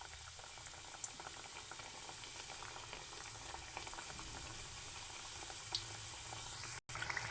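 Small samosa pouches deep-frying in hot oil over a low-to-medium flame, a steady, dense bubbling sizzle with crackles, close and continuous, with no voices.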